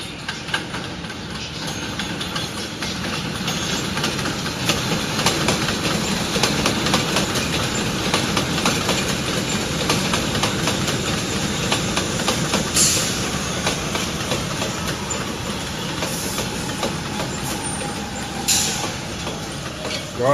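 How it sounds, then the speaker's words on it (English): A Manhattan-bound New York subway train rolls into a station near Westchester Yard early in the morning, a loud continuous rumble of wheels and rail clatter with occasional squeals, close and sustained throughout. "Manhattan-bound train entering."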